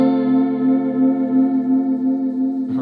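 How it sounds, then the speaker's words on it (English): Electric guitar played through a vibrato pedal with a little amp reverb: one sustained chord wavers in a steady pulsing wobble, loud and close, cut off abruptly at the end. "The first effect I'm going to add is a vibrato."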